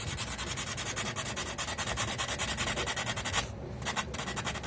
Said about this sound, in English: And then I would give this a little scuff up on top.